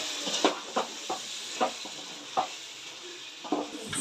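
Chicken curry simmers in a pot with water added, giving a steady sizzling hiss with soft stirring scrapes and bubbling pops recurring every half second or so, close and moderately quiet, with no talking.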